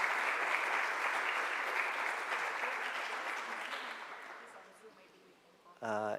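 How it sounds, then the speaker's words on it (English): Audience applause at the UI GreenMetric World University Ranking Award Ceremony 2024, a dense sustained clapping that gradually fades over several seconds before a voice speaks at the very end. "So big applause to Universidad El Bosque, Colombia."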